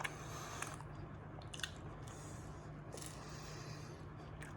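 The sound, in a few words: biting into Roman style pinsa pizza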